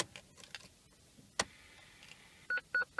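Three short, evenly spaced electronic beeps from a BMW E46 Touring parking sensor in reverse gear near the end, after some faint clicks and a sharp tap.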